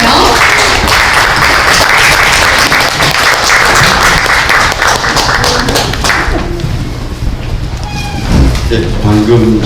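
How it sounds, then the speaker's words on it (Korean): Audience applause welcoming a lecturer at a cultural talk, loud dense clapping filling most of the stretch before tapering off, with a voice speaking over the end. "여러분 큰 박수로 맞아주세요."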